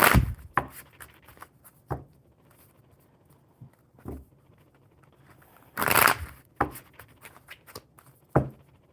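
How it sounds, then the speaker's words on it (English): Someone shuffles a deck of playing cards in short, crisp bursts of riffling and tapping, separated by quiet gaps, close and clear with no talking. "I feel like I need to shuffle these again"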